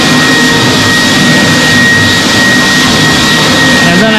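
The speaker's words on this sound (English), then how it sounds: "first I push this and that's water." A Mini Ninja carpet cleaner runs loud and close with a steady high-pitched motor whine and rushing airflow while spraying water, constant throughout with no voices.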